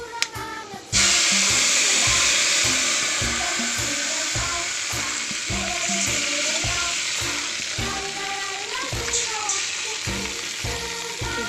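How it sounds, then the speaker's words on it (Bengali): Dried red chilies and five-spice seeds hit hot oil with a sudden loud burst of sizzling. The bright hiss then settles into a steady sizzle, broken by rhythmic stirring knocks in the pan, with no voices. "টকের মধ্যে দিয়ে দেবো একটু শুকনো লঙ্কা আর 5 ফোড়ন, তেলের মধ্যে দিয়ে দেবো"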